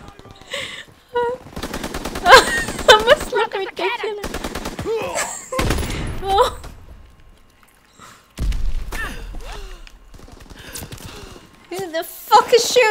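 Rapid gunfire and explosive bursts from the Call of Duty: WWII online multiplayer match, with machine-gun rattles and single shots crackling loudly in clusters throughout, broken by brief gaps, while a player talks over the action.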